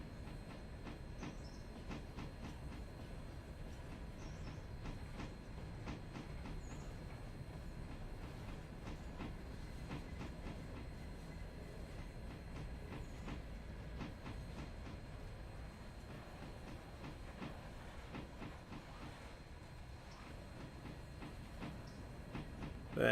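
Steady rumble of a train running in the railroad simulation game Railroader, with repeated clickety-clack wheel beats over a constant low roar throughout, no voices.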